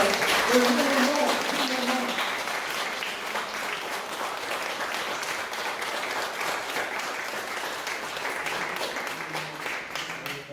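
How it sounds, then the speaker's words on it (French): Sustained applause from a church congregation at an online Sunday service, steady and dense throughout, with faint voices mixed in. "Et je voudrais encore applaudir notre père Henri"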